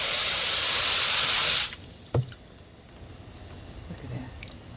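Water gushes loudly from a rain barrel spigot for a moment, then stops abruptly, leaving faint drips and soft background noise.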